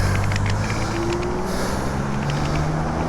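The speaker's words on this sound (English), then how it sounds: "So this truck just kind of stopped in the middle of the crosswalk." A truck idles in a crosswalk, a loud steady engine drone with low hum filling the whole stretch, amid surrounding street traffic noise.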